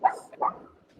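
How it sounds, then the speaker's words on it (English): A dog gives two sharp barks close by, quick and separate, then falls quiet, with no talk over it. "My dog is barking at a leaf floating across the street."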